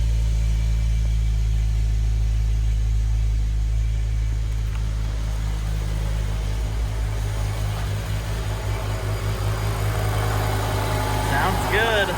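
A BMW E60 M5 V10 engine turning over and settling into a steady, rumbling idle close by, with a low throbbing drone throughout and a faint high whine near the end.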